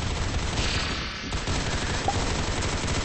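Dense rapid gunfire in a video game, a continuous close fusillade of machine-gun shots filling the short stretch without a break.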